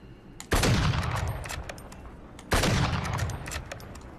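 Sniper gunfire in a video game: two loud, heavy shots about two seconds apart, each with a long reverberant tail that rings out and fades, against faint background game noise.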